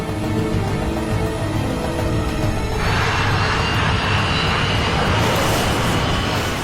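A KLM jet airliner on the runway at Tenerife roars loudly and continuously, the engine noise swelling and brightening as it bears down at speed.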